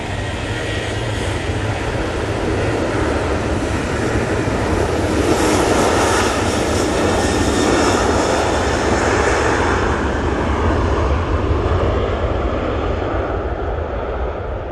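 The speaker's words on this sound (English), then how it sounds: "There goes Ryanair." A Ryanair jet departs Manchester Airport bound for Dublin, its engines a loud, steady broadband roar that holds for the whole stretch with no voices over it.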